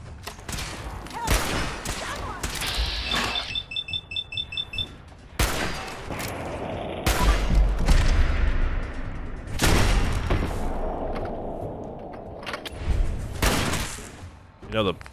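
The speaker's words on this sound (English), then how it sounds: "I'm using the wrong gun for this battle." Bursts of gunfire ring out in a video game battle, sharp cracks and a stuttering rapid run scattered across the span, some loud and close, mixed with game effects and a talking voice.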